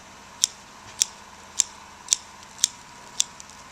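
Sharp scissor snips cut the roots of a green Japanese maple bonsai, six crisp clicks spaced evenly about half a second apart, close and alone.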